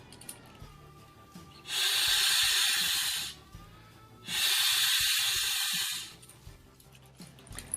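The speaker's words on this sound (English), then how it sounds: "first I'm going to blow into this bag with a conventional valve" Breath blown into an inflatable camping bag through a conventional valve, two long steady rushing blows of about one and a half seconds each with a short pause between, close and loud against quiet room tone.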